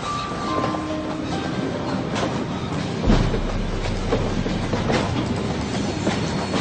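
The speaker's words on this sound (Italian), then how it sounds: "Quando il vagone di servizio gli passa davanti, Smith ci salta sopra." A railway service wagon rolls past on the rails, with a continuous rumble and rhythmic clickety-clack of wheels over rail joints, fairly loud and close, and a heavier low thump midway through.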